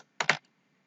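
A caption typed on a computer keyboard for an HTML page: two quick, close key clicks in a row followed by a faint third tap, crisp against silence.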